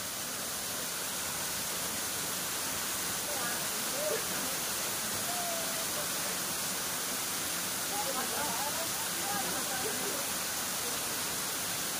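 A tropical waterfall pours with a steady, broad rushing hiss, close and constant, while faint voices murmur underneath.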